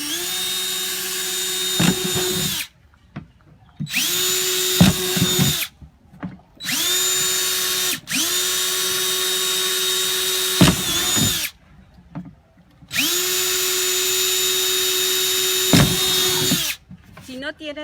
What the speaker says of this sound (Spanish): Si no tienes un taladro